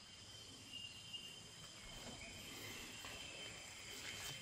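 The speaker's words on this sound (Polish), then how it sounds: "Przeraźliwe dźwięki z tej dochodzą puszczy. Jakieś świerszcze" Crickets chirp in a Malaysian rainforest at night, a faint, continuous shrill drone of insects with no voices.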